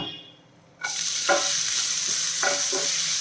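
Onion tipped into hot oil bursts into a loud, sudden sizzle after a quiet start, then keeps frying steadily with a few spoon scrapes, close up and free of talk.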